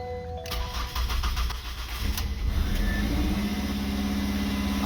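A 2005 Ford Focus with an exhaust manifold leak cranks and starts, a brief starter whir followed by the engine catching and settling into a steady, slightly raspy idle, close and moderately loud.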